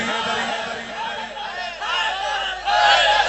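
Religious gathering crowd chants the slogan Haidari in unison, a loud massed roar of voices swelling in waves and rising sharply toward the end.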